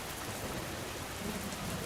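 Steady rain pouring down in a video game, a dense, even hiss of falling water filling the whole stretch without pauses, moderately quiet and heard alone.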